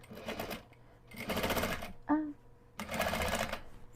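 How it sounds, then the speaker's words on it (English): A sewing machine back-stitches at the start of a seam on a quilted zipper pouch, running in three short whirring bursts separated by brief pauses, with a small click in between. "So I'm going to do a quick back stitch to start."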